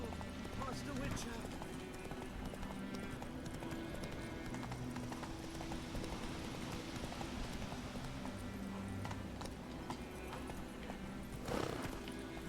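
Roach the horse gallops in The Witcher 3, with rhythmic clip-clop hoofbeats running steadily throughout at moderate volume. Game ambience sits underneath, a voice can be heard, and a brief louder burst comes near the end.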